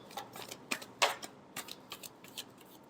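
Tarot cards shuffled by hand, a quiet run of soft crisp riffling flicks and taps at an uneven pace, with one louder snap partway through and no voices.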